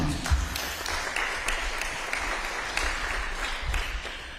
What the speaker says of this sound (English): Please, ladies and gentlemen, a round of applause for Miss Materina Lawina